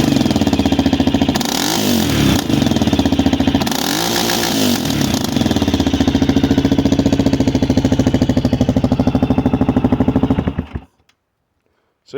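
A 2022 Kawasaki KLR650 with a DG exhaust sits at a loud idle, then barks through two sharp throttle blips before settling back to its thumping idle. The engine then cuts off abruptly into near silence.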